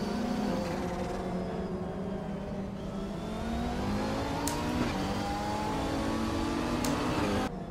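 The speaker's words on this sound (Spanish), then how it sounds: "me voy a callar un poquito para que escuchen el sonido de los autos" Race car engines in a sim racing video game whine steadily and rise in pitch through gear changes, with a couple of brief sharp clicks, heard alone and fairly loud.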